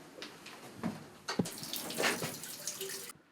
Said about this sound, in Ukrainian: Вода, кран є.